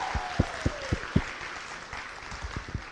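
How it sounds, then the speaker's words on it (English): Applause from a new-student orientation audience at a college comes through thin and distant, with scattered individual claps standing out over a broad wash of clapping. "So please give a round of applause and thanks to Leah Prater and Rachel Wilbur"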